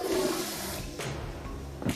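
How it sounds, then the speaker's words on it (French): A cartoon toilet flushes with a broad rushing swirl of water that fills the short moment, then fades into a softer gurgle before a small splash at the end. "Electra, tire la chasse d'eau."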